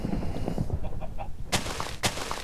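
Chickens cluck in the Minecraft video game, a few short clucks amid busy game noise, with two sharp bursts near the end.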